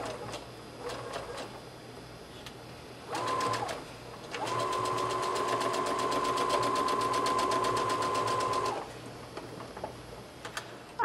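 A sewing machine stitches a 5/8 inch seam with backstitching: a short burst of stitching, a pause, then a longer steady run of rapid, evenly rhythmic needle strokes lasting about four seconds, close and clear with no talking.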